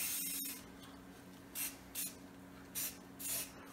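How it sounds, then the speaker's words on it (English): Four short hissing bursts of etching primer from a spray can onto a rusted steel wheel, each lasting a fraction of a second, with a faint click near the start and quiet gaps between them. "And I'm going to spray this on the tire so you can see what it does."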